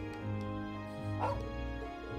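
A dog in the video game Trails of Cold Steel 2 gives a few short yipping barks while being petted, over steady game background music.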